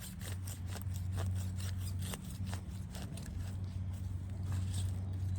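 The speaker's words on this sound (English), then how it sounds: "I'm gonna take this right here and just with the serrated part and just cut it right in half" A serrated blade saws through a hosta plant, cutting it in half. Close, rhythmic rasping strokes repeat steadily over a low background drone.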